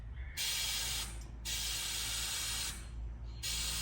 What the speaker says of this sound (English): You can probably hear the air coming out of it.